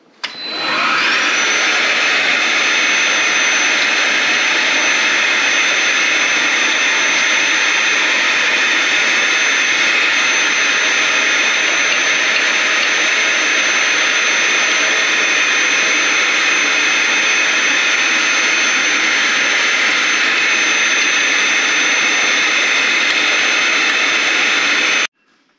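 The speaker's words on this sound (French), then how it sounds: "je vais mettre l'aspirateur." A vacuum cleaner sucks soot and ash out of a pellet stove, running as a loud, steady high-pitched roar that starts abruptly and continues unbroken for about 25 seconds.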